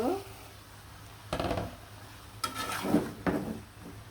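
Fried chicken leg pieces are tipped into a pan of spiced masala and stirred, giving a few scraping clatters of a spoon against metal over a low background sizzle.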